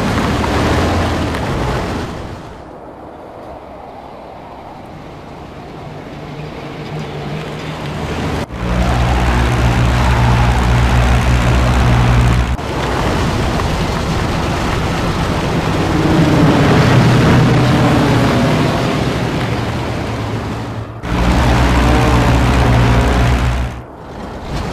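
Aircraft engines in the desert mission of the wartime shooter Hidden and Dangerous 2 drone loudly and steadily, swelling and falling over a continuous low roar with abrupt shifts in intensity and no voices.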